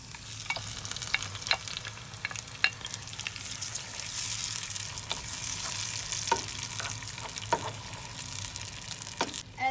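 Tomatoes fry and are stirred in a pan, with a steady bright sizzle broken by repeated short scraping strokes of the spoon throughout.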